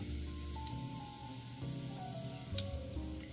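Sliced onions fry in oil until browned for crispy bereshta, giving a soft, continuous sizzle and bubbling with occasional light pops, low in level and heard alone, with a faint tonal hum underneath.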